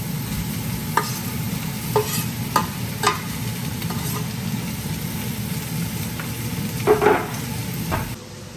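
Two pounds of bacon fry in a pan with a continuous crackling sizzle, broken by several sharp scrapes and clinks as it is stirred.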